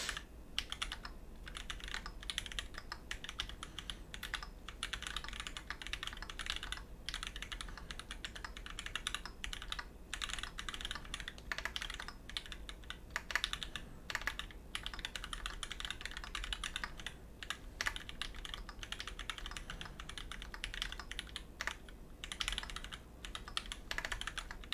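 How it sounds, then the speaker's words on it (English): Continuous fast typing on a Kbdfans x Vulcan MAJA custom mechanical keyboard, a steady dense stream of close key clacks with short pauses, no voices. "It is weird typing on this thing"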